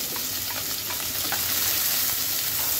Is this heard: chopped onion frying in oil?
yes